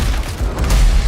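Explosions rumble in the video game Battlefield 6, a loud, dense low-end boom with crackling debris that swells and sustains throughout, with no talking over it.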